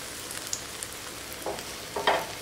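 Semolina and yogurt uttapam sizzles in oil on a tawa, a soft steady crackle close by with a few brief louder pops and scrapes as the pan is moved.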